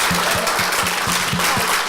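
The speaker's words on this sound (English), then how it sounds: "give them a big round of applause" An audience at a church ministry gathering claps together, loud and sustained, with a quick rhythmic beat running through the applause for the whole stretch.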